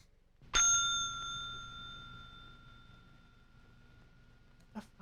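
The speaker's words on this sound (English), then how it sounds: "Bells are sacred sometimes." A single bell struck in the FMV game Silent Night Bloody Night, a sharp clear strike with a long ringing tone that slowly decays against a quiet background, followed by a faint thump near the end.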